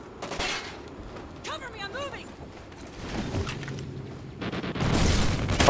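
Gunfire exchange in a video game, with a few scattered bursts and thuds building into a denser, louder volley near the end, mixed with game sounds and a voice talking.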